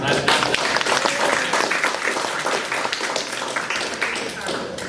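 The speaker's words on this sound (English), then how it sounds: "Can we also give Carlos a round of applause?" Audience applause at a general body meeting after an officer's report, a dense, steady roar of many hands clapping that fills the whole stretch at fairly close range, with faint voices mixed in.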